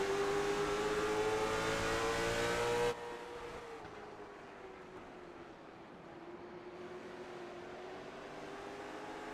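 Race cars, a Camry and a Pontiac, drone around the Bullring oval, a sustained engine whine that drops abruptly to a fainter, distant hum as the field moves away.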